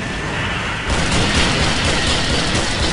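A loud, sustained roaring video game explosion that swells after a moment and rumbles on, filling the sound with dense noise.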